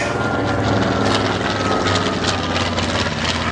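A WWII-era propeller aircraft flies over an air show, its engine drone and prop buzz loud and steady throughout, with no voices.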